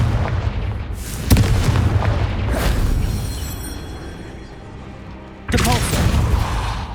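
Hogwarts Legacy's Confringo spell detonates in deep booming blasts, a sharp explosion near the start and another toward the end, with rumbling fading between them.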